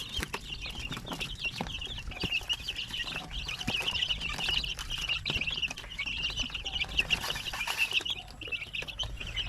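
Shamo aseel chickens and chicks clucking and chirping steadily at close range, with a dense layer of high peeping running throughout alongside scattered scratching and knocking noises.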